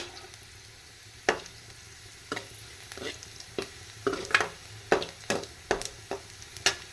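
Intermittent stirring and scraping of vegetables sautéing in oil in a pan for sambar, over a faint steady sizzle, with sharp utensil clicks coming more often toward the end.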